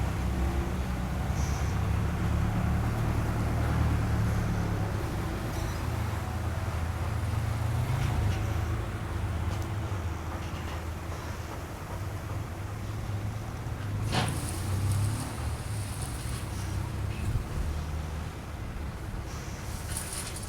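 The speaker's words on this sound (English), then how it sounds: "it's so windy" Strong wind gusting outdoors in a park, a constant loud low rushing roar with mic buffeting throughout and no voices.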